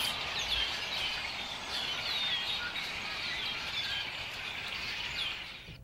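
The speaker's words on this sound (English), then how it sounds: "Today's music is brought to you by the birds." Birds chirp and trill continuously in the distance, several calls overlapping against a soft outdoor background with no voices.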